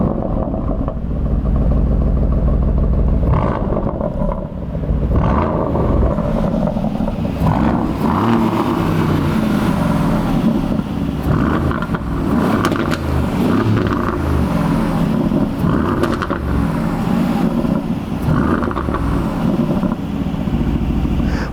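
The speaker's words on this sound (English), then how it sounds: "I think more interesting than the look of the tailpipes is actually what they sound like." Exhaust note of a manual-shift Aston Martin with a 510 hp AMG engine, a loud, steady, deep rumble with rising and falling revs throughout, close to the tailpipes and with no talking.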